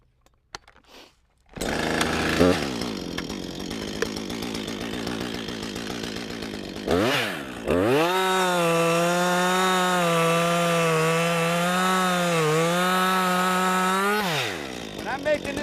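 A chainsaw cuts through a felled tree log close by, a loud steady engine whine after a brief start, rising and bogging as the chain bites into the wood, then dropping off at the end.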